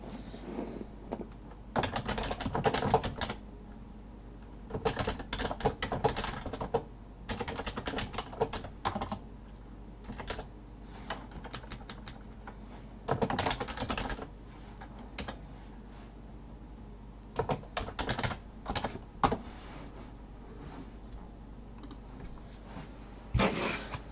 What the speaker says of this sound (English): I just want to type something.